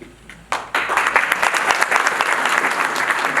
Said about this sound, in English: Round of applause for Dick Dowd.